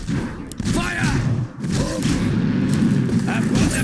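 Sniper rifle shots in Dota fire as heavy booming blasts with a few sharp cracks, mixed with other game effects, while character voices speak over the action.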